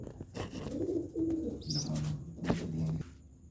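An adult pigeon and two chicks, cooing in low, throaty, repeated calls, fairly close, with a faint chirp and some soft rustling in the background.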